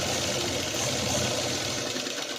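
A sewing machine runs in a steady continuous whir, stitching patchwork for a samosa-style design, close and fairly loud with a fast even mechanical buzz and no talking.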